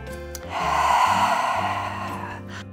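Breathing during a Pilates exercise, a single drawn-out breath heard close up, swelling and then easing off.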